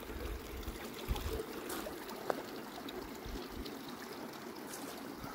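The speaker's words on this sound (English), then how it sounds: "because the ice is covering the top, the water goes under it, it's like, it sounds like a pipe" A constant, low rushing of creek water flowing steadily under ice with a hollow, pipe-like muffled tone, faint and even, with a couple of small knocks.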